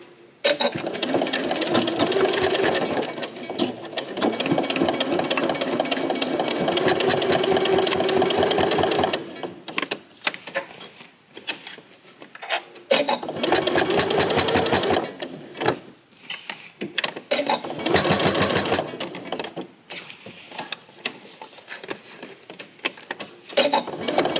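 A sewing machine stitches down the side of a fabric pouch, rapid mechanical chattering in long runs with brief pauses between and occasional soft handling noises, no voices.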